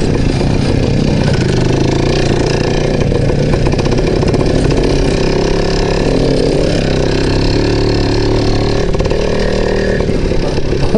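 An IZh Planeta motorcycle engine runs steadily and loudly while riding, a continuous close mechanical drone with no voices over it.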